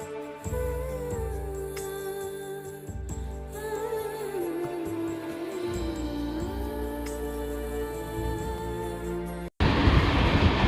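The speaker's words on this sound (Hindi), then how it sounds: "हमारी ट्रेन यहाँ से प्रस्थान कर चुकी है।" The Kasganj–Aishbagh Express pulls away from a station, a continuous mechanical drone with whining tones rising and falling in pitch, a few sharp knocks, then an abrupt burst of louder rushing noise at the very end.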